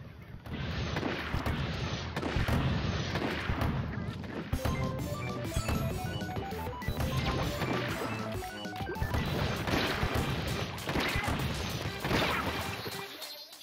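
Cannon fire in the Splatoon 2 video game, a dense run of loud booming, splattering blasts repeating throughout, with game music and effects layered underneath.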